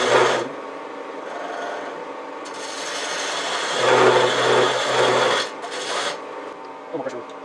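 A wooden stool part is rounded over on a lathe, the tool rasping and scraping against spinning wood in bursts of varying pressure, with short pauses between cuts and a brief voice near the end.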